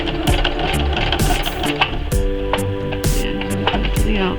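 Sewing machine stitching a fabric collage, running steadily with a fast repetitive mechanical rhythm and a few brief pauses and restarts, close and fairly loud.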